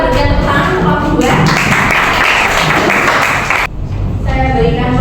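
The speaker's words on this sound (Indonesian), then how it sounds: "Kita berikan tepuk tangan untuk kelompok 2" Classroom applause for a student group after their presentation, a dense steady clapping from many hands that carries for several seconds, then drops off sharply and gives way to quieter sound.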